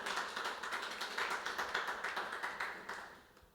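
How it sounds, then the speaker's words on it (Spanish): A Spanish-speaking church congregation claps in a soft, steady patter that fades out toward the end. "Dele un aplauso, mis hermanos"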